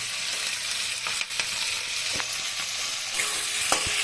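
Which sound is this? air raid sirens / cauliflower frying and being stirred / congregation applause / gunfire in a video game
cauliflower frying and being stirred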